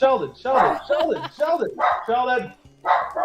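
A dachshund barks rapidly and repeatedly, close and loud, in a quick run of sharp yaps with short pauses.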